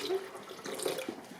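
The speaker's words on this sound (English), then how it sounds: "And I add about another cup of water." Tap water runs steadily into a vessel, a short continuous splashing pour added to a batter while making fried chicken wings, heard close and alone.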